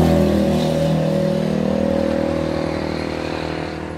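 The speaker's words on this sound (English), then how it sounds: "I told y'all there was motorcycles everywhere." Motorcycle engines rumble and rev outdoors beside an antique thrift store, a loud, low droning hum with steady tones that slowly fades over a few seconds, with no talking.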